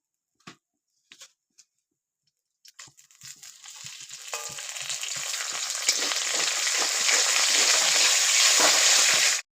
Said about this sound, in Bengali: তেলের মধ্যে দিয়ে দিব গোটা জিরা, দিয়ে দিব তেজপাতা